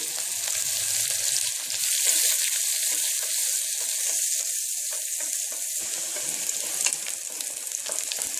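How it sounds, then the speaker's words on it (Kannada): Onions sizzle loudly in hot oil, a steady crackling hiss with occasional pops, close up and without talking. "ಸಣ್ಣಗೆ ಹೆಚ್ಚಿ ಈರುಳ್ಳಿ ಮೀಡಿಯಮ್ದು 1 ಗಡ್ಡೆ ಒಗ್ಗರಣೆಗೆ ಸಣ್ಣಗೆ ಹೆಚ್ಚಿ ಹಾಕ್ತಿದ್ದೀನಿ"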